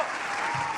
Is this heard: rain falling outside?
no